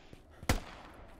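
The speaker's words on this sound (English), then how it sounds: "I hear their fire" A single sharp gunshot crack in the tactical shooter video game Squad, fairly close and loud, with a quieter thump just before it and faint background rumble after.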